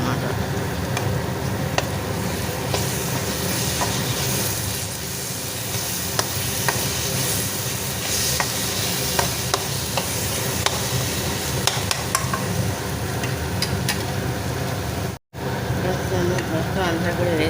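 Jackfruit mixture being stirred in a hot pan, steady sizzling and frying with repeated scraping of a spoon throughout.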